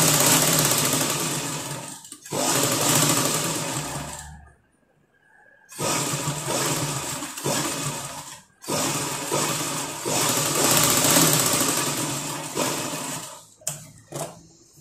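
An electric sewing machine runs in long, steady bursts while stitching piping onto a blouse sleeve. It makes a close, loud, rapid mechanical whir with brief stops between runs and no talking.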